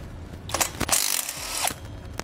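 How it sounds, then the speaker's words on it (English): Ratchet wrench with a 9/16 socket loosening the nuts on a Kodiak disc brake assembly of a 2018 Grand Design Momentum trailer, giving close, rapid metallic clicking in short bursts. "we'll grab a 9/16 socket and pull them out"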